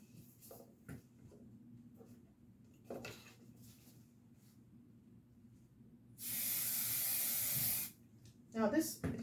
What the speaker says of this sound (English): Now this adhesive spray that I'm using, like I mentioned, I really, really love it.